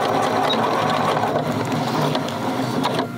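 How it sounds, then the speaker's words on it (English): A sewing machine stitches an elastic ear loop onto the bottom seam of a fabric face mask, a steady close mechanical whir running continuously before cutting off near the end. "sew it right at that seam on the bottom, either the pressed seam or the hem that you made"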